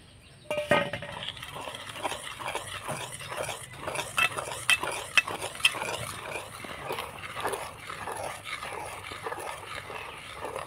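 Flour is mixed by hand into eggless cake batter in a bowl, giving a steady run of soft, rhythmic stirring and clinking strokes at close range, fairly quiet, with no talking.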